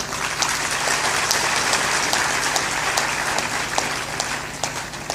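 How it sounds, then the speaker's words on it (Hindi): A crowd seated under a pandal at a spiritual discourse claps loudly and continuously, a dense, even roar of hands with sharper individual claps popping out, no talking over it. "तुम तो दमदार ताली मारा करो"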